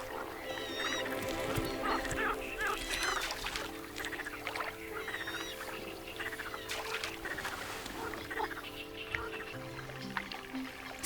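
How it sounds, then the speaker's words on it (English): Eurasian coots call from a reed-fringed Anatolian lake, with scattered bird calls and squeaks rising over a steady bed of water and wetland ambience that runs through the whole stretch. "Eurasian coots are early birds."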